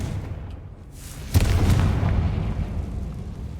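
A Confringo fire spell explodes in Hogwarts Legacy, one sudden boom followed by a rumbling tail, after a quiet stretch with no talk.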